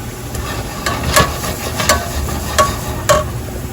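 Onions and garlic sauteing in a pan while pasta cooks, a low steady sizzle broken by several sharp clinks and scrapes of a utensil stirring against the pan, close and fairly loud.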